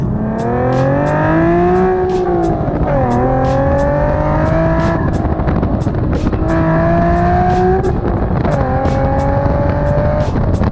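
A Nissan 370Z sports car with 120,000 miles, a 333-horsepower engine and a six-speed manual, accelerates hard through repeated gears. The loud, close engine note rises in pitch, then drops at each shift, with no talking over it.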